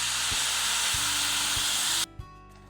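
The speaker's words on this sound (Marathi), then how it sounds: "गरम पाणी घातल्यामुळे लगेच छान अशी उकळी आलेली आहे" Hot water poured onto sautéed rice and peas for matar bhat in a hot pot sends up a loud, steady sizzling hiss with a few soft knocks, then it cuts off abruptly, leaving near-silence.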